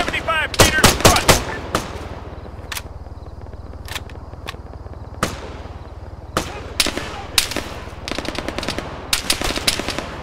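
Machine gun fire in the ArmA 3 military video game comes in sharp bursts and single cracks, loud and close at first and then scattered through the rest, with occasional distant-sounding shots.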